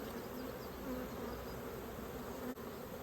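Honeybees buzzing steadily at an open hive during an inspection, a dense continuous hum close by with no talk.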